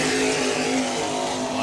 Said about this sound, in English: You can hear the roar of those Sterling engines.